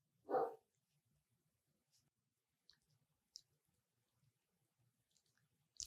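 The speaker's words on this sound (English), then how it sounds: "That sounds like Boulder, the younger of my 2 Great Danes." A single loud Great Dane bark near the start, followed by faint scattered clicks and light tapping in an otherwise quiet room.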